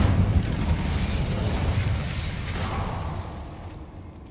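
The Incendio fire spell is cast in Hogwarts Legacy, giving a loud, low whooshing roar with a rumbling burst that slowly fades away over a few seconds, with no talking.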